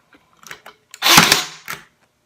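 A Kimo 20V 18-gauge cordless brad nailer firing into MDF, a single sharp mechanical snap-and-thud with a brief whir, preceded by small handling clicks.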